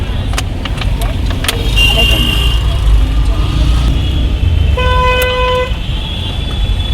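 In a Kolkata traffic jam, car horns give several short toots and then one longer, sustained honk over a rumbling street. Voices are heard talking nearby.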